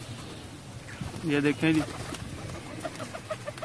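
Flying pigeons kept on a rooftop coo in a short, soft, low burst, mid-distance, over background noise while someone speaks briefly.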